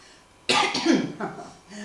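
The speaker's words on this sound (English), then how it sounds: "I have to cough" One close, sharp cough bursts out and tails off into a rough follow-up, set against a quiet background.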